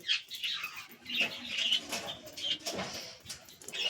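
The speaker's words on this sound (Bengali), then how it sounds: "এখানে হচ্ছে আমাদের পায়রাগুলো আছে, তো খেতে দিচ্ছে এক এক করে। আর পায়রা দুটো চলে এসছে।" Racing pigeons coo softly and call in short, repeated bursts while being fed one by one, a close, steady chorus of birds with no talk.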